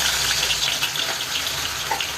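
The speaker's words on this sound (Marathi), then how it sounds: "प्रथम कढईमध्ये तेल टाकून त्यात कांदा घालायचा." A steady, hissing sizzle of onions frying in hot oil in a wok, close and continuous, with no voices.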